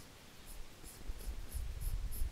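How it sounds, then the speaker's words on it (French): A pencil drawing an outline on paper for a handmade card makes soft, close scratchy strokes, a faint rhythmic series of about six light scrapes over a low background rumble. "avec un crayon à papier, je vais faire un genre de contour pour le cœur"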